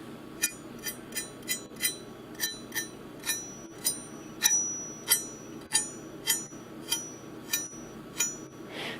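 A LamsonSharp Rosewood series kitchen knife blade is tapped repeatedly, giving a dozen bright metallic pings at a steady pace, each ringing briefly, close and fairly quiet over a faint background hiss.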